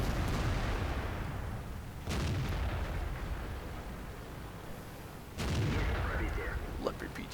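Tank cannon shots in the World of Tanks video game boom out in two heavy blasts a few seconds apart, each followed by a long rumbling decay, over a constant engine drone.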